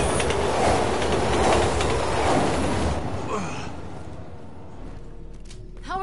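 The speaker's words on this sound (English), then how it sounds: "Train's coming!" A train in the Resident Evil 6 video game rumbles past loudly with a dense rattling roar, then fades over the last few seconds as a few squealing metallic tones rise near the end.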